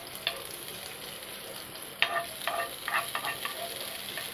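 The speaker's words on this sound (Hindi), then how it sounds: "अब हम इसका तड़का उठा के अपनी चटनी में डाल देते हैं।" Hot tempering oil hits coconut chutney with a sudden loud sizzle that crackles in bursts for a couple of seconds, close up, then settles to faint hiss.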